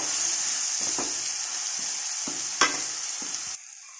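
A spoon stirs red chili powder and garam masala into a mixed-pulse vegetable curry in a pan, giving a steady bright sizzle broken by several soft scraping strokes, then a sharp clink before the sizzle drops away.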